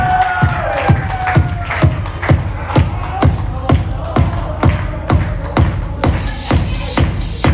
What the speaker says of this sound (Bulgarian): нека чуя вашите страхотни горещи аплодисменти за абитуриента Гюкан